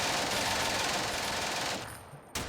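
Dense, loud gunfire fills a Steel Panthers WW2 strategy game battle, a steady crackling barrage that fades briefly near the end before a final sharp burst.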